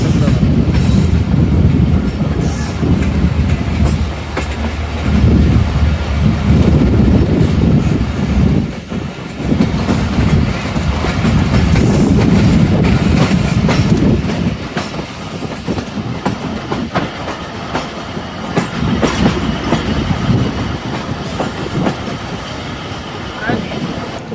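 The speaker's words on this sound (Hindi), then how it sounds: "ट्रेन हमारी साहिवाल रेलवे स्टेशन अप्रोच बना रही" Musa Pak Express passenger train approaching Sahiwal railway station, rolling steadily with loud continuous rumble and rhythmic clickety-clack of wheels over rail joints, close and sustained throughout with a brief dip midway.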